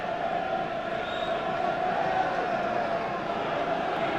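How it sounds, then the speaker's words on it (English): Football crowd at a Bury v Manchester City Division One match on a wet, windy night, heard as a steady, dense roar of many voices throughout, with no distinct chants or bursts standing out. "I think the crowd are enjoying this one."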